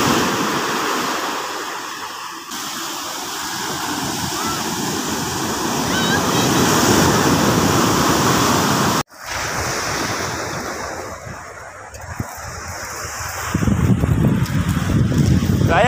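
Strong sea waves surging and crashing near a fishing spot, a loud continuous roar of surf mixed with wind buffeting the microphone, with a brief cut midway and faint voices.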